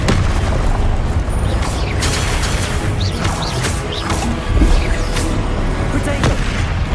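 Spell blasts and impacts crack and boom through a Hogwarts Legacy duel, one explosive Confringo among a dense, loud run of casting bursts, whooshes and rumbling hits over busy game sound.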